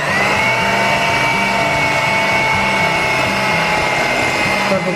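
A Pioneer Woman mixer beats thick cookie dough with a loud, steady motor whir and a rhythmic low churning, running alone and close throughout.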